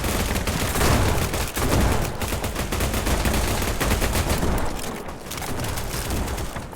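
Sustained automatic AK rifle fire in the video game Battledudes, a loud, dense rapid stream of shots continuing almost without break, with a brief dip before resuming.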